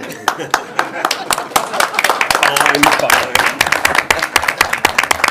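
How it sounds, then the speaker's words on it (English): The audience at a Monroe-Woodbury school board meeting claps for staff from North Main, a loud burst of many hands that swells and then tapers into sparse individual claps, with some voices mixed in. "You can clap for them, too"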